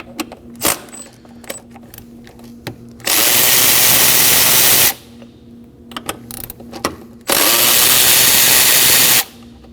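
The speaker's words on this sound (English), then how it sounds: "Using a 10mm socket, go ahead and remove the four 10mm bolts." A power drill with a 10mm socket backs out throttle body bolts on a 2011-2016 Kia Optima, running in two loud, steady bursts of about two seconds each, separated by clicks and small metallic taps. No one speaks.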